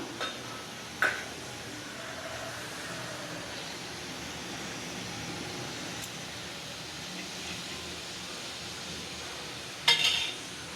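Mustard seeds spluttering in hot oil in a pan for chicken fry, a quiet continuous sizzle with faint crackles and two brief metallic clinks, close and without voices.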